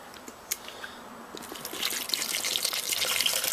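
Water poured from a water bottle trickles and splashes steadily, building into a continuous pouring hiss after a few scattered drips; close and fairly quiet, with no talking.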